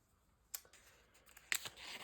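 Scissors snip through paper to cut out mushroom shapes, giving a few faint, crisp cuts spaced irregularly against quiet room tone.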